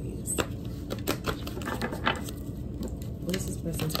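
Tarot cards being shuffled make a rapid, uneven patter of soft clicks and riffles that runs throughout, close and fairly quiet.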